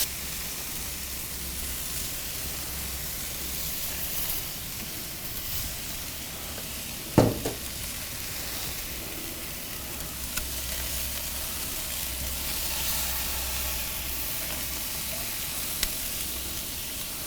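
Chicken breasts glazed with pineapple and rum sizzle on a covered grill just after being flipped, a soft, steady frying hiss with a single sharp clank partway through and a few faint ticks.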